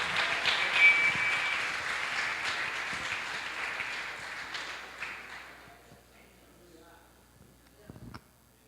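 A church congregation at an international convention applauds: dense, loud clapping that gradually fades to quiet, followed by a brief burst of sound near the end.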